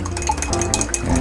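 A spoon stirs iced tea syrup with a little hot water in a cup, producing quick, repeated light clinks and scraping against the vessel, close and fairly loud.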